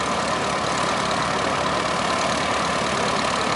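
A small airplane engine idling on a runway after starting up, a steady, loud, continuous drone with broadband roar and no breaks or voices.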